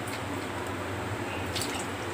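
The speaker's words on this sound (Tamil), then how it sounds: "தண்ணி ஊற்றிட்டு நல்லா கொதிக்கிட்டோம்," A steady bubbling simmer of eggplant tamarind curry in a pot, with soft continuous popping and gurgling, close up and without any voices.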